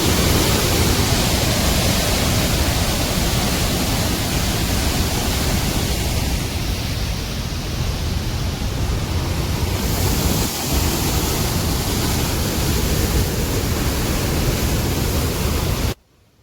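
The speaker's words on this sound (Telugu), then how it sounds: "ఒకసారి వాటరు చూడండి ఫ్రెండ్స్ ఎలా పోతాయి అనేది" Water rushes through Pincha dam in a loud, continuous, broadband roar that stays steady for about sixteen seconds before cutting off abruptly, with no voices.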